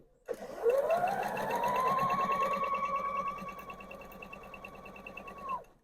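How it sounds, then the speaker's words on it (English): A sewing machine stitching quilt fabric scraps together in pairs, whirring up to speed and running steadily for several seconds before stopping, close and moderately loud with no talking. "I'm just going to sew them all together in twos"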